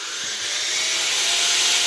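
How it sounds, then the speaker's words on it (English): Air pressure dryer blowing on freshly washed Game Boy Pocket shell and parts, a steady loud hiss of rushing air that holds constant and swells slightly, with no talking. "I like to use an air pressure dryer."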